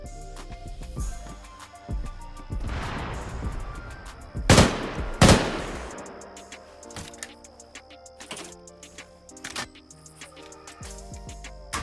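Machine gun fire in ARMA 3 comes in a few sharp bursts, two loud and close in quick succession, over a quieter backdrop of tonal game sounds.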